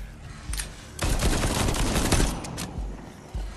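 Gunfire from the zombie shooter video game The Walking Dead: Onslaught, a dense burst of rapid shots running for about two seconds at close range, with a few isolated bangs before and after.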